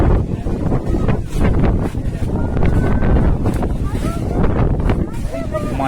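Strong, gusty wind buffets the microphone on a foggy hill station at Matheran, a continuous rough roar with someone talking under it.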